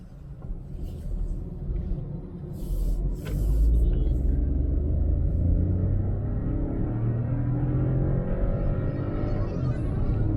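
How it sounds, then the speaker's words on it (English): A Skoda Rapid TSI automatic with a torque converter gearbox accelerating in drive mode, heard from inside as a loud, steady low engine drone and road rumble that swells and holds, with no talking. "this time I'll be doing in the drive mode, just to check how quick the acceleration is probably getting"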